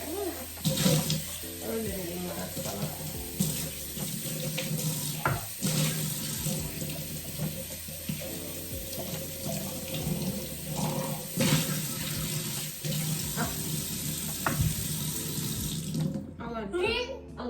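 A kitchen tap runs steadily while something is washed under it, a constant close splashing stream with clatters and shifting flow that stops abruptly near the end, with voices faintly under the water.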